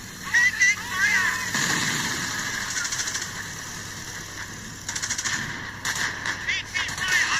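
Rattling bursts of gunfire from the World War II strategy game Company of Heroes, set in a Battle of Crete scenario with German paratroopers, come in clusters over a steady battlefield din, with in-game voices calling out between them.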